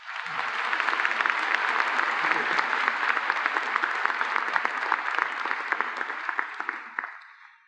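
An audience at a 2015 college convocation applauds a keynote speaker, a steady, full wash of clapping that holds for several seconds and then tapers off at the end.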